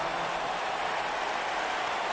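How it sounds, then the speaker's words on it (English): A continuous, even cicada-like buzz from the WWE 2K19 video game fills the whole stretch as a steady, dense, hissing drone with no talk over it. "It's the sound of the cicada emerging after years of slumber from their underground existence."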